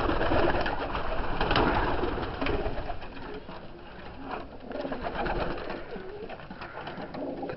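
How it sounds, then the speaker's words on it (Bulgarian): Caged male Chinese owl pigeons coo repeatedly at close range, soft throaty rolling calls overlapping in a steady chorus with no talking over them. "Следващата клетка са моите мъжки гълъби."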